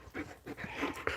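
Several dogs, including a pup, playing together at home, with rapid panting, breathy huffs and small whimpers in quick bursts, close and moderately loud, with no talk.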